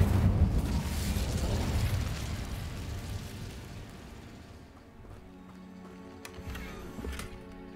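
Incendio fire spell cast in Hogwarts Legacy, a loud whooshing, crackling blast of flame that rolls on for a couple of seconds, then thins into quieter ambience with faint tones and light taps.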